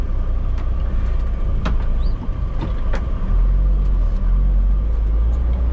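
A car pulling out of a parking lot, with a deep, steady engine rumble heard from inside the cabin and a few faint clicks and knocks over the low drone.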